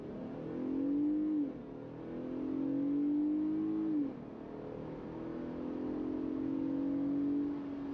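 A 2023 Jeep Gladiator Rubicon in two-wheel drive accelerates hard from a standstill toward 60 mph, its engine note climbing steadily and dropping at two gear shifts before rising again, loud and continuous with no talking.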